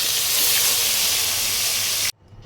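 Salt-and-turmeric-rubbed fish frying lightly in hot oil, a steady broadband hiss that runs loud and unbroken, then cuts off abruptly into near silence.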